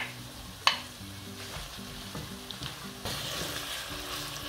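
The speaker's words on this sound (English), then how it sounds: "I'll now add my tomato paste to it." Tomato paste fries in a pan for vegan jollof rice, a soft steady sizzle with a sharp clatter as it goes in, then occasional stirring scrapes and a louder hiss building toward the end, close by with no voices.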